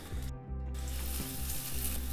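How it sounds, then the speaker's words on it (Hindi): Onions frying in a hot pan, a steady close sizzle that runs throughout with a short dip near the start, and no voices. "अनियंस को पहले भूनेंगे थोड़ा सा"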